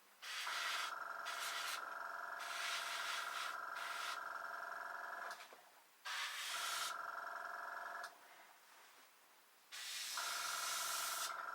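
An airbrush sprays paint onto a 1/24 scale Airfix Hawker Typhoon Mk Ib kit, giving steady close hissing bursts that stop and restart several times with brief quiet gaps between them.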